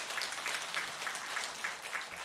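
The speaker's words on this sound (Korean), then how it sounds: "함께 박수로 환영해 주시기 바랍니다." Applause from a church congregation welcoming a new member at a New Year's Sunday service in Sokcho, a steady, fairly soft patter of many hands with no voices.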